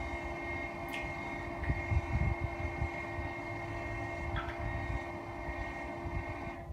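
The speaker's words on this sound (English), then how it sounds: "As soon as we shut the valve, you can hear the motor running for an extra few seconds." Automatic cistern water pump motor running steadily as a continuous low hum, faint and fairly distant, then winding down and shutting off.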